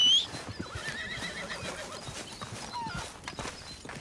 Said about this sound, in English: My horse is here.